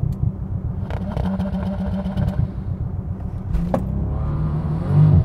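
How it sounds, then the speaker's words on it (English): A 2019 Bentley Continental GT launching hard from a standstill, its engine roaring loud and close with a rising rev sweep and a brief gear-change break, building to a louder surge near the end. "I'm going to launch this Bentley."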